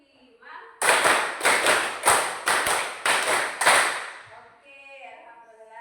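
A run of about ten loud, close hand claps in a steady rhythm, five claps done twice, in a classroom clapping game. Brief talking comes before and after the claps.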